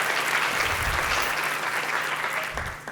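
Audience applause at a school district State of Our Schools event, sustained dense clapping from a large crowd filling the whole moment, loud and steady, with a brief voice near the end.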